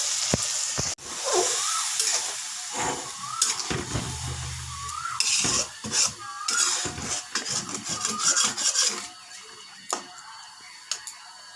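Spiced prawn curry with chilli powder and a splash of water sautéing in a pan, a soft sizzle broken by sharp scraping and tapping stir clicks, with scattered faint vocal sounds in the background.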